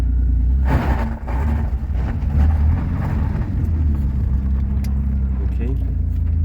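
A Maserati Ghibli GT biturbo engine revving on a dyno, a loud continuous low rumble and drone that holds steady with small rises in pitch, running under a voice.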